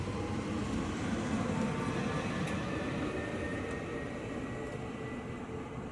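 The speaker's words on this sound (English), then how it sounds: "This is TGV, the high-speed train." Steady broadband rumble and rush from a TGV double-decker high-speed train in France, continuous and even throughout with no voices.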